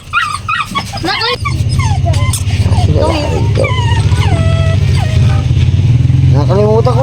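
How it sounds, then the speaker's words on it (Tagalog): Puppy yipping, whimpering and barking in excited bursts up close, with people talking alongside and a steady engine-like rumble underneath. "Ah, yung aso ron!"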